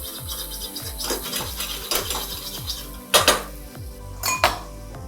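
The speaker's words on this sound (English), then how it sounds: "carrot, bean, mushrooms and green peas are already boiled. They don't need much of cooking, but yet just to kill that rawness, just saute." Boiled carrot, beans, mushrooms and green peas sautéed in a pan, heard as steady rhythmic scraping and clinking of a utensil against the pan, with a couple of louder metallic knocks near the end and no talk.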